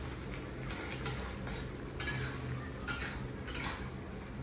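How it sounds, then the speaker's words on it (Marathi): A spoon scraping and clinking against a pan while boiled peas are stirred into a vegetable dish, soft irregular taps and scrapes in a quiet kitchen, fairly faint. "आता हे प्रॉपर मिक्स करून घेणार आहे."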